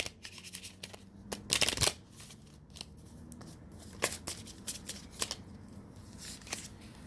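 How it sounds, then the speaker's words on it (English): Tarot cards shuffled by hand in a quiet room, a series of crisp riffling bursts with one loud flurry near the start and several shorter snaps after it, close and clear. "Let me get one more shuffle here."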